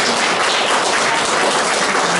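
Loud, dense applause from an audience at an exhibition of Koniaków lace and Beskid cross-stitch embroidery, greeting the lace makers with steady clapping throughout.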